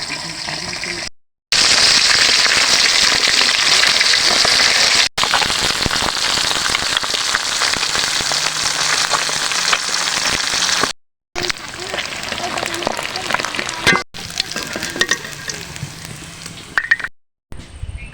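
Tilapia deep-frying in hot oil, a loud steady sizzle and crackle like heavy rain, running nearly the whole time with a few brief cut-outs.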